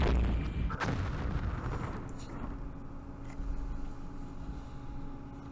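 A deep artillery boom rumbles from a war strategy video game set in a battle for Jerusalem, with a sharp crack near the start and then a lingering low roar that slowly fades.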